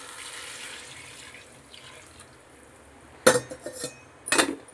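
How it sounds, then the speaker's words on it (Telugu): Pre-measured water goes into a pot of mutton biryani with roselle leaves in two sharp, splashy pours, close and loud, with faint clinks over a quiet kitchen background. "దీంట్లోకి నేను ముందుగా కొలిచి పెట్టుకున్న వాటర్ని అయితే యాడ్ చేసుకుంటున్నాను"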